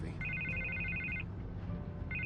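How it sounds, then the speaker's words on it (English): A telephone rings inside a Batman video game, two bursts of electronic trilling bells over a low ambient game bed, with a short gap between them. "I can't get the phone to stop ringing."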